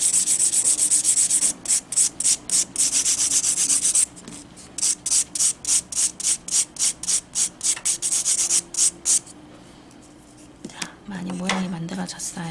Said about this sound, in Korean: 나는 깔끔하게 갈아야겠다.